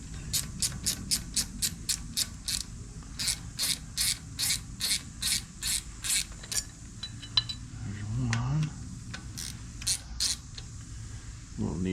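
A quarter-inch ratchet loosens and removes bolts on a 2008 Harley-Davidson Sportster 883 during an idle repair: a rapid run of sharp, evenly spaced clicks, briefly paused and then resumed, close and fairly loud.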